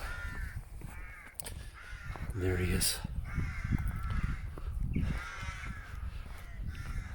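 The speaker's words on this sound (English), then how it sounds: "Crows are resident in the trees here all year round, and they make quite a noise, as you can hear." Harsh crow caws ring out repeatedly from trees at dawn on the Hill of Tara, among background bustle, with someone speaking briefly over them.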